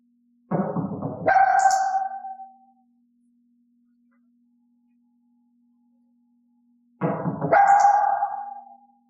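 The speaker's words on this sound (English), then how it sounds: "I knocked the wall to prompt a bark, and clicked then treated for the bark." Elaine the dog gives two separate barks indoors, each a short throaty burst rising into a higher tone, spaced several seconds apart with silence between, close and clear over a faint steady hum.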